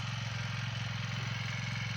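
A tractor engine runs while ploughing a field, giving a steady, throbbing low chug with an even pulsing rhythm, moderately quiet and alone, with no voices.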